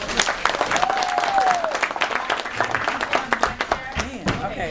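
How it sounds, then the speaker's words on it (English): An audience claps in a burst of applause during a talk about stereotypes, brown paper bags and BGLOs, with sharp hand claps throughout, moderately loud, and a voice briefly heard among them. "Give Brianna another round of applause."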